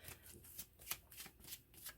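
Lenormand cards being shuffled off camera for a pick-a-card reading: a steady run of quick, rhythmic riffling bursts, close and fairly soft, with no voice.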